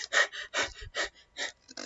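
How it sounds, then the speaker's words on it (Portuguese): Forced rapid breathing (hyperpnea) demonstrated as a series of about six quick, loud, evenly spaced breaths, heard up close with no talking. "nós temos a hiperpneia, uma respiração rápida e acelerada"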